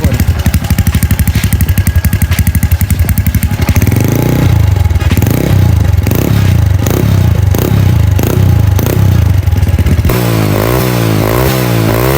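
A Honda Wave 125 motorcycle fitted with a Chan Speed exhaust pipe from a Wave 110, loud and close, idling with a rapid putter before several sharp revs that climb and drop, then settling back to idle.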